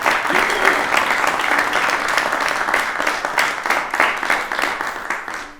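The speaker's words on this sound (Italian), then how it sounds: "Un applauso a questa grande realtà" Audience applause at a concert event, steady dense clapping from a sizable crowd continuing throughout, with a faint voice briefly audible beneath it.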